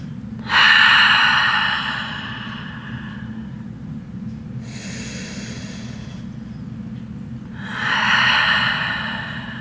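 Deep breathing during a guided flow exercise session: two slow, audible exhales roughly six seconds apart, breathy and close, over a low steady background hum with no speech.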